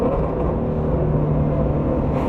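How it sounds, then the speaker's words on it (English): A deep, steady engine rumble from a GT350's new exhaust on downshifts, loud and close, holding a low drone with a slight rise near the end. "Golly, those downshifts sound insane now. So much louder."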